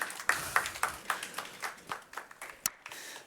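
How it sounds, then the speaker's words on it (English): Scattered clapping from a small audience at a conference talk, a modest round of applause that rises and tapers over a few seconds. "big round of applause"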